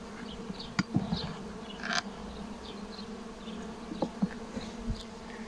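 Honeybees at an opened beehive as frames are lifted out, a steady near buzzing swarm with a few louder passes close by and faint handling knocks.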